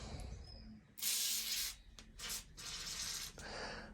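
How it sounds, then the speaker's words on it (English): Maintenance spray blasted from an aerosol can onto a seized seat post of a 2013 Calibre Two-Two bicycle, several close, loud hissing bursts of varying length separated by short pauses. "it's going to be a case of a good bit of oil, a bit of maintenance spray"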